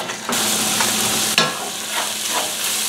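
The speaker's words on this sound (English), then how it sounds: "The onions are frying again." Onions for paneer butter masala sizzle loudly in a hot pan on high heat, a constant crackling fry with a sharp scrape of stirring partway through, no voices.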